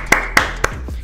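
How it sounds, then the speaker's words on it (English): Three sharp hand claps spaced roughly a quarter second apart, close and crisp, a single person clapping along amid a drill-music reaction session with faint background rumble. "Clap it up wherever you are."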